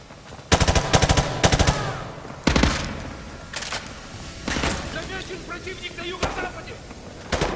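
Sustained automatic weapon fire in Call of Duty Modern Warfare 2 Remastered, heard as loud, close bursts of rapid shots with sharp reports between them, broken by pauses and game voices talking over the action.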